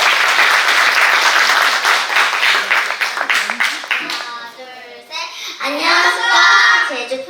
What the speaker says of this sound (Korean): 모든 발표자들이 큰 박수 주시면서